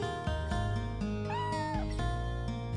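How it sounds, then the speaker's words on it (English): A cat in the video game Chrono Cross gives a clear, close meow, one drawn-out rising and falling call over a layered game music backdrop. "It makes a cat noise!"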